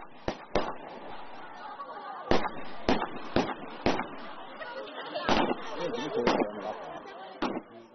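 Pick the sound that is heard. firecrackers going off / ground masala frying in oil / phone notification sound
firecrackers going off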